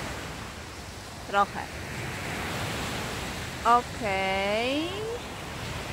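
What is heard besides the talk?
sea waves breaking on shore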